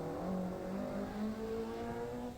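Rally car engines at the 1985 West Cork Rally, a tonal engine drone rising and falling in pitch as the cars rev and pass, moderately loud and continuous.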